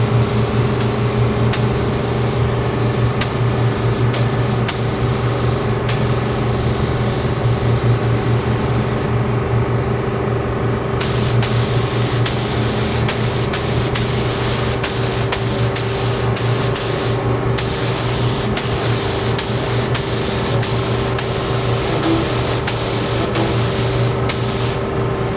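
A spray gun hisses continuously and loudly while spraying a ceramic coating, with brief pauses where the spray stops and restarts, over a steady mechanical hum.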